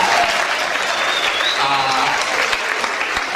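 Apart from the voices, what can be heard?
audience applause at a dance event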